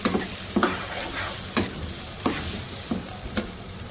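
Chicken liver (kaleji) fries over a high flame in a steady loud sizzle, broken by regular scraping strokes of a spoon roughly every second, with no talking.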